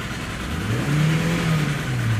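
A nearby 2013 Hyundai Elantra engine revs up, its pitch climbing then holding and easing back down, loud and steady with no one talking.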